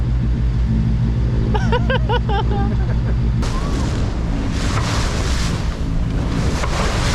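A sailboat motors upwind under engine power, giving a steady, loud low rumble with gusting wind noise. Voices whoop and shout over it partway through.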